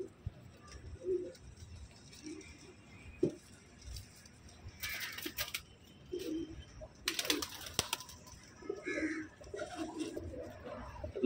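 Cross-bred pigeons at a bird sale coo in low, soft bursts, with scattered clicks and wing flutters against a busy background.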